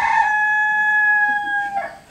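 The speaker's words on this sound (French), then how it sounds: "le poulet de madame" A chicken crows loudly and close by in one long, drawn-out call that breaks off into a short throaty cluck at the end.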